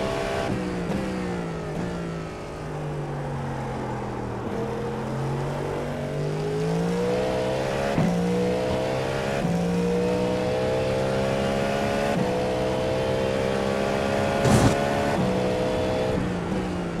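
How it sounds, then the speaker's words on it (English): A race car engine in a Daytona 24-hour racing game, revving and holding a steady drone. Its pitch sweeps up and down through gear changes, loud and close, with no talking over it. "This car does sound good."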